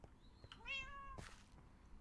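A cat gives a single clear, rising-and-falling meow at close range, brief and fairly quiet, with a soft rustle after it and no talking.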